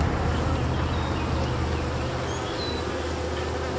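Bee swarm buzzing and fanning inside a hive box, a dense, continuous drone that stays loud and close throughout with no voices.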